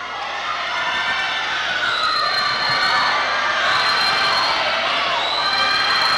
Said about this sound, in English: just great to hear, Rachel, the cheering from the Cal U squad here.